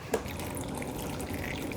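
Salted brine is poured over cabbage for kimchi. It makes a steady, soft, continuous watery rush that starts after a brief splash and runs quietly throughout.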